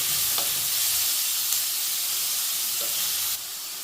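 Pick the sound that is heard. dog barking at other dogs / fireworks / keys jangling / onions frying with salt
onions frying with salt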